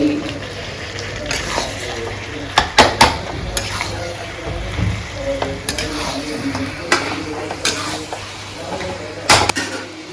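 Chicken sautéed with salt in a pan, stirred steadily with a spoon over a continuous sizzle, with scraping and clinks of utensil against metal coming in bursts up close.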